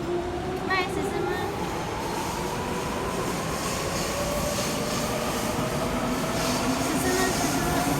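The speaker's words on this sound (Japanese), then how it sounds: "特急列車です。" A Seibu Railway limited express train wrapped in Kanahei's small-animal characters passes near Kawagoe, with a continuous loud rumble of wheels on rails, drawn-out metallic tones and faint squeals throughout.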